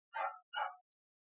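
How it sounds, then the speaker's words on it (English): A dog barks twice in quick succession, short yappy barks that sound faint and somewhat distant, followed by silence. "Now the dog is barking."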